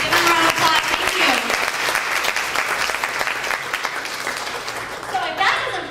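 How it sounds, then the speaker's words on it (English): A crowd claps loudly and steadily throughout a presentation, dense continuous applause at close range with a few voices and cheers mixed in near the end. "give them a round of applause"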